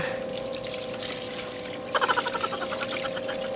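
Water poured by hand over Chinese kangkong plants in a garden makes a soft, close splashing trickle. A brief burst of heavier gurgling splashes comes partway through.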